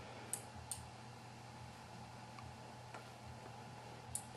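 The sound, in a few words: Arduino-controlled model train device clicking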